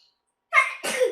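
A single close sneeze in two bursts, a sharp intake then an explosive release, after a moment of quiet.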